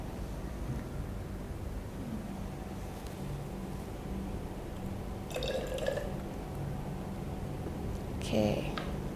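Lab glassware being rinsed with water during a school chemistry practical on catalysts and reaction rate: a steady wash of background noise broken by a couple of short, bright dripping and splashing bursts near the middle and end.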